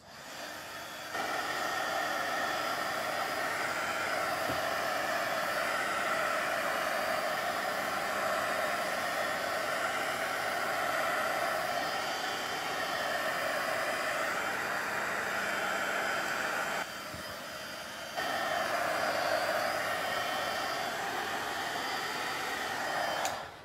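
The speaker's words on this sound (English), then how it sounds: "get my heat tool out and blow it around a little" Heat tool blowing over alcohol ink on a card, a steady loud whooshing blast that runs almost continuously, with one short dip before it resumes.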